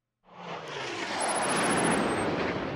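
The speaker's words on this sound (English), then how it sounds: "That's just a random guy in a jet" A jet aircraft in the video game Just Cause 3 roars in from silence, swelling into a loud, steady broadband rush that holds for a couple of seconds without any speech.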